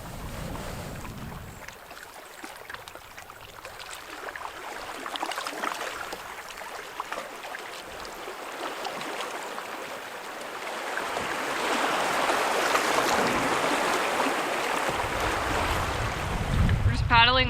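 Canoe paddle strokes on a wilderness lake beside rocky cliffs, soft steady water swishes and wind rush, moderately close and continuous, growing a bit louder toward the end, with no talk.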